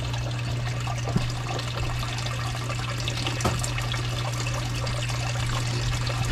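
Water pours steadily into a container being filled, a continuous trickling splash with a low steady hum beneath it and a couple of small knocks.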